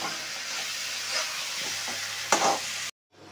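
Fried tengra fish is stirred through a spiced masala in a pan, giving a close, steady sizzle with scraping stirs and a louder clatter before it cuts off abruptly.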